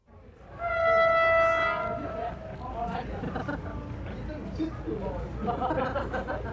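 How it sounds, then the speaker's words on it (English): A steam passenger train from Bayan Obo pulls into a halt on the outskirts of Baotou, China, sounding a loud, sustained whistle near the start, then a steady rumble and clatter of the cars with faint voices nearby. "this was the daily passenger train from Bayan Obo arriving at a halt on Baotou's outskirts"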